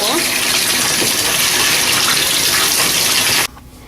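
A bathtub fills with room temperature water from the tap, a steady loud gushing rush that stops abruptly near the end.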